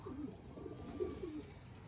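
Pigeons coo softly in short low bursts, a few rounded calls repeating against a steady background hum, with no one speaking.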